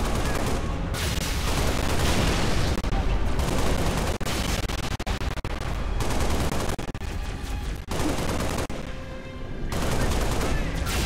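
Heavy gunfire from a mounted big gun in the Halo Reach video game, dense sustained bursts of shots with brief gaps, loud and continuous throughout.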